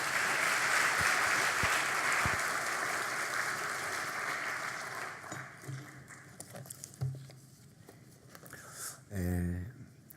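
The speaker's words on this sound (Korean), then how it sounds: "들어가실 때 큰 박수 해주시기 바랍니다" A church congregation at a Sunday worship service claps in a full burst of applause that thins out and fades after about five seconds. Scattered shuffles, footsteps and a brief voice follow.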